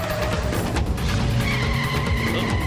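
A cartoon car skids hard to a stop, its tires screeching in a loud, continuous squeal over engine noise for a few seconds, with no voices.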